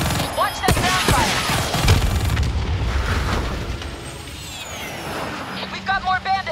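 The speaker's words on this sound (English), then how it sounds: "Watch that ground fire." Ground fire and explosions in Call of Duty: Black Ops 3, a burst of booming blasts and rapid gunfire up front that fades to a rumbling roar, with a voice briefly speaking near the end.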